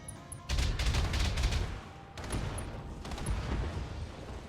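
Automated turrets firing in the BattleTech video game, two sustained bursts of rapid gunfire with a short gap between, dense and fairly close, with faint mechanical tones behind.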